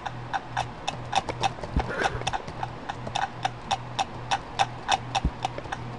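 Horse hooves clop in the game Clop, a steady run of sharp, evenly spaced knocks that stay fairly close and moderately loud over a low background hum, with one or two heavier thumps among them.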